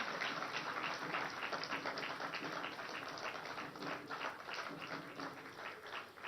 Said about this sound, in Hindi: तालियां तो जोरदार बजते रहनी चाहिए।